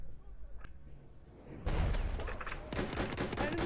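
MG08 machine gun fire in Battlefield 1 crashes in suddenly after a quieter stretch: a loud, dense burst of rapid shots that keeps going to the end over low battlefield rumble.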